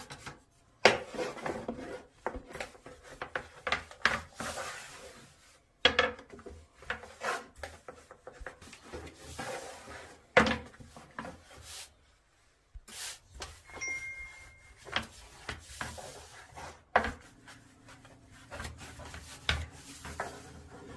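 Börek dough is rolled out by hand on a wooden board: repeated rubbing, rasping strokes in an uneven rhythm with brief pauses, close and fairly quiet.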